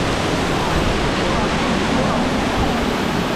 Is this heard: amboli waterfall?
yes